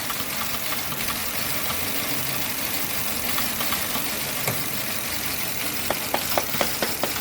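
A Chevy 1.5 engine with a misfire runs steadily to purge air from its fuel rail, a continuous close idle drone with faint ticking and a few sharper knocks near the end, no talking.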